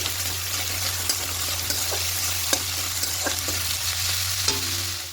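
Salted tomatoes fry in a pan while being stirred, giving a continuous close sizzle broken by several sharp spoon scrapes and clinks, with no voices.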